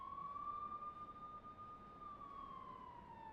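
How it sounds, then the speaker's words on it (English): Police car sirens in the video game Persona 5 Royal give a long, slowly rising and falling wail, steady and moderately loud over a soft background hum, with no talking. "Police cars, did something happen?"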